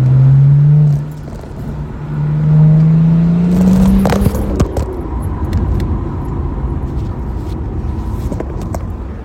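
A BMW 335d diesel engine revs up with a rising whine, dips, then climbs again before settling into a rougher rumble with clicking and rattling, loud and close.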